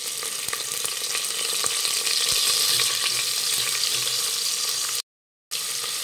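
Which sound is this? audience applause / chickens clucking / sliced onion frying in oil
sliced onion frying in oil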